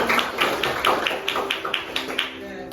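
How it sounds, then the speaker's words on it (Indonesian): A school class claps in a quick, even rhythm, a row of sharp hand claps close by with a faint background hum and some chatter. "Tepuk tangan dulu"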